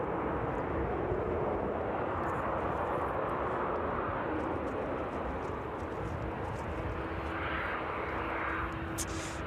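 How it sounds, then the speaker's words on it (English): Jet2 airliner engines rumble in the distance after landing at East Midlands Airport, a loud, steady broadband roar that holds for the whole stretch, with a faint rising whine near the end. "Just hear those engines off in the distance there."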